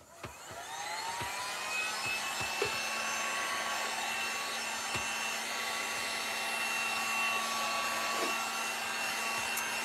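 Hair dryer blowing steadily on wet paint on a sea shell craft, a close continuous whirring roar with a few faint clicks, no voices.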